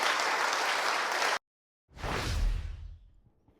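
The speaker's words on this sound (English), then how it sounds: "So you notice what got the applause of that crowd, didn't it?" A crowd applauds after a political speech on jury nullification and common law, first loud broadband clapping that cuts out abruptly, then a second burst that swells and fades away.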